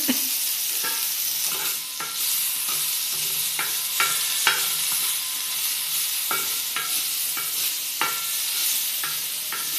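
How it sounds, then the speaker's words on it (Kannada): Green chillies fry in oil for a chutney, a steady bright sizzle close by, punctuated by regular scraping taps of a spatula stirring the pan, with no talking. "ಹಸಿಮೆಣಸಿಗೆ ಹುರ್ಕೊಳ್ತಾ ಇದ್ದೀನಿ"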